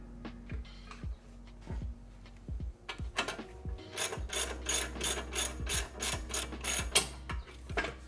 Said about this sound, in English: Slowly lower the jack.